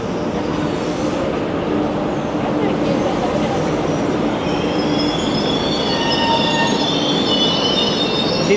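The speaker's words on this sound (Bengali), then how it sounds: "ট্রেন দেখা যাচ্ছে আসতেছে।" A train arrives at a station in Morocco on the Casablanca to Fez line, with a loud steady rumble and rising wheel squeals toward the end, heard close and continuous.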